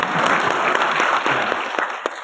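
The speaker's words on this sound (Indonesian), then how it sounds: "kadang-kadang boleh tepuk tangan" Lecture-hall audience at a public university lecture breaking into dense, sustained applause, close and loud throughout the short moment.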